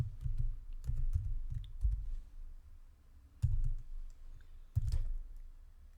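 Light clicks of typing on a computer keyboard in a quiet room, with short bursts of keystrokes separated by brief pauses and a few sharper taps.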